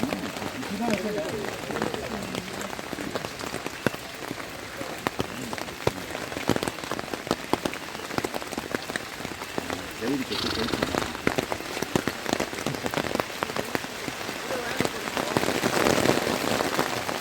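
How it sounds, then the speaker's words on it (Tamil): Steady rain patters down on a forested trail where hikers descend by holding a tied rope, a dense, continuous hiss of drops throughout with occasional voices underneath. "மழையும் பெய்து கொண்டிருக்கிறது."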